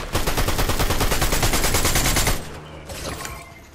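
Heavy burst of game gunfire in a shooter match, a dense rapid rattle of repeated shots for about two seconds, loud and close, then cutting to quieter ambient noise with a faint later report.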